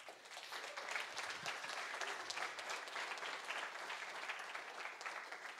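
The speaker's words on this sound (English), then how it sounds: "A big applause." An audience at a Speck&Tech tech meetup applauds, a steady, even wash of many hands clapping for several seconds with no voices over it.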